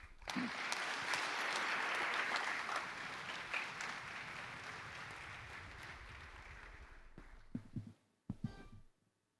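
Audience applause fills a conference hall after panel talks at a business congress on tackling inequality, loud and steady for about eight seconds, then tapering into a few scattered claps before falling silent.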